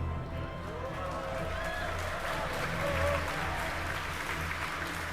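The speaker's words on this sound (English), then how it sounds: "The crowd here reacting to that call out" A crowd watching a SpaceX Starship flight test broadcast applauds and cheers, a steady wash of distant clapping and voices that swells slightly midway, with faint talk over it.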